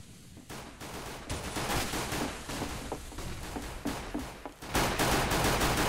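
Rapid overlapping bursts of gunfire fill a Counter-Strike pistol round on the Inferno map during a pro tournament match, with dense clustered shots of mixed loudness and a sharp cutoff followed by another barrage.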